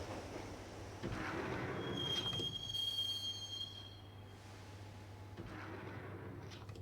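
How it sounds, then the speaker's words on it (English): Subway train ride in the Max Payne video game: a steady rumbling rail drone with swelling rattles and a thin metallic squeal, then a quieter rolling hum. "the train doors had already shut behind me, and I was in for the ride"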